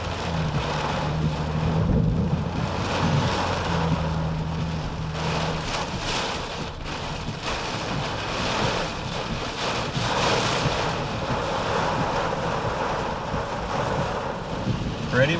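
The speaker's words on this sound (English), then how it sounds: "Pretty windy." Strong wind buffets the microphone during a severe thunderstorm in Coal City, Illinois, a continuous loud roaring gust noise with rumbling low surges, and a brief low hum early on.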